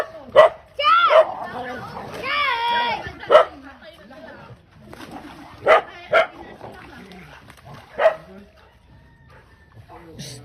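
Several dogs bark and yip in scattered bursts, with a whimpering whine in between and people talking over them.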